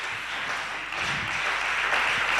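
A church congregation breaks into applause, producing a dense, steady wash of many hands clapping at once for a few seconds.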